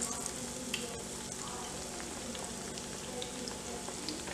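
Eggplant pakoras coated in gram flour batter fry in hot oil, giving a dense, steady crackling sizzle heard up close, with small pops, and no voices.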